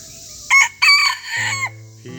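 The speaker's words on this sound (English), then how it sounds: "This is Sika, he's the rooster." Up close, a mini bantam Sebright rooster crows in a loud broken call, a short opening burst followed by a longer strained note that trails away into a low tone, with no speech.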